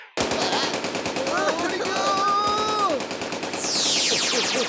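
Cartoon machine-gun fire rattles in a rapid, continuous burst of loud shots, mixed with other animated sound effects and brief vocal sounds.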